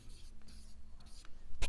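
Pen writing out a maths solution on paper, a few short scratchy strokes in quick bursts, close and quiet, ending in a brief sharper tap.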